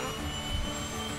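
A Cessna Caravan 208B turboprop at engine start and ignition, fitted with a starter generator, gives a steady, loud turbine roar and whine with a broad hiss, continuous through the moment.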